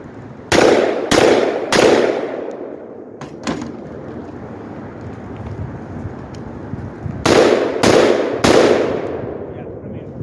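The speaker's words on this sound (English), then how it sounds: "Let's fire 2 more shots." Sharp, loud .223 rifle shots fired through a Blast Forward muzzle brake, three quick reports in a row, a quieter pause with faint handling noise, then three more closely spaced shots, each with a brief ringing tail.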